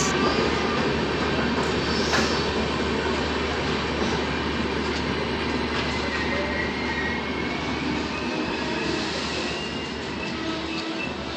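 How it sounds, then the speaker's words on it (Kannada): The 11311 Solapur–Hassan Superfast Express pulls into platform 3 at a station: a loud, steady roar of rolling wheels and carriage rumble continues without a break, with no voices. "ಆ ಕಡೆ 3ನೇ ಪ್ಲ್ಯಾಟ್ಫಾರ್ಮಿಗೆ ಇವಾಗ ಎಂಟ್ರಿ ಆಗಿದೆ. 11311 ಸೋಲಾಪುರ ಹಾಸನ್ ಸೂಪರ್ಫಾಸ್ಟ್ ಎಕ್ಸ್ಪ್ರೆಸ್."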